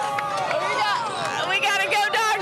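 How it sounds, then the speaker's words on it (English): A busload of excited passengers somewhere outside Phoenix raise a loud group cheer for the Dogs, several voices shouting and whooping together at close range in a steady, lively burst. "We got a Go Dogs cheer going on"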